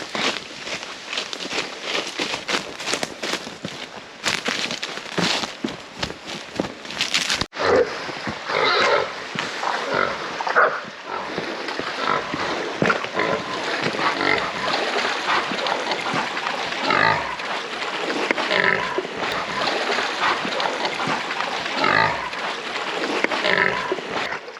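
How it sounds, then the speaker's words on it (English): A wild boar of about 90 pounds, with small tusks, is caught by hunting dogs, giving loud, harsh grunts and squeals close by. The noisy struggle goes on without a break. "Decent boar, probably 90 pounder."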